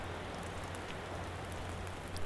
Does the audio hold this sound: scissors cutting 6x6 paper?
no